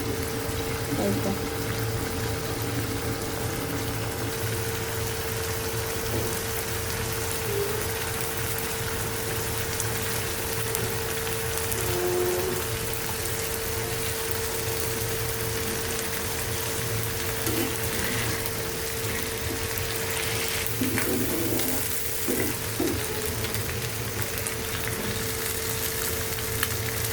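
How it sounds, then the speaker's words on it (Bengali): Beef brain frying in a pan with onion, a continuous close sizzle and bubbling that holds steady throughout with occasional small clinks of stirring. "মগজ কিন্তু প্রায় হয়ে আসছে, একদম কষা কষা ভাজা ভাজা করে নেব।"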